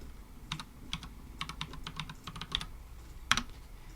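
Keys clatter on a computer keyboard in quick, uneven bursts with short pauses, soft and close, with no one speaking.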